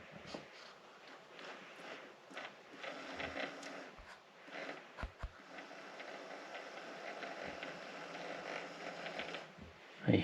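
The cruise control servo motor from a Porsche 944, powered by a 9-volt battery, whirs faintly with small mechanical ticks and clicks. The sound is quiet and steady, with a few sharper knocks along the way.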